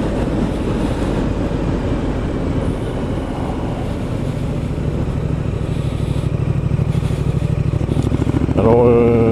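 A 2019 Triumph Street Scrambler 900 motorcycle engine runs at a steady, throaty idle, then revs up near the end with a rising whine.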